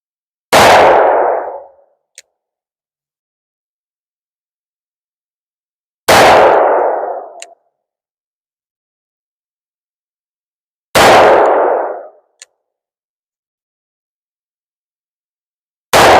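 .44 Rem Mag 240-grain rounds fired into concrete: three loud separate gunshot blasts a few seconds apart, each with a short ringing decay and a faint follow-up ping, silence between them.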